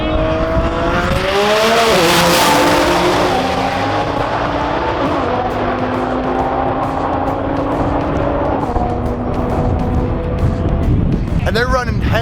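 A red Nissan GT-R and a blue Audi R8 launch in a drag race at a TX2K event, engines roaring loud and close and then fading into the distance, with tire noise and voices underneath.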